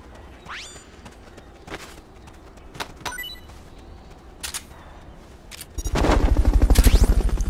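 Tranquilizer pistol shots in the video game MGS Peace Walker, several sparse, sharp pops spaced a second or so apart, followed by a louder rapid burst of fire at the end.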